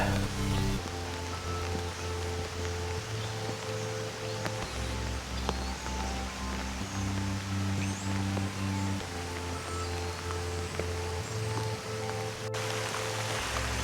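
Rain falls outdoors over a garden of dry grass and ferns as a soft, constant hiss and patter, steady and faint, with a low droning tone layered beneath and no voices.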